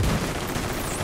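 Gunfire in The Division 2 during a raid boss fight, aimed at the boss's backpack: a dense, loud burst of rapid shots filling the whole short moment, with no voices.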